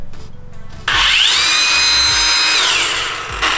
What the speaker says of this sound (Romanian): n-am mai văzut un polizor cu baterie până acum